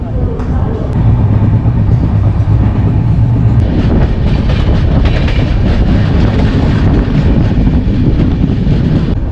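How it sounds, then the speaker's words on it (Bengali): A train arriving at Bardhaman Junction rumbles loudly and continuously at night, with a rhythmic clatter of wheels on rails and wind buffeting the microphone. "আর এখন ট্রেন এসে ঢুকছে বর্ধমান জংশন"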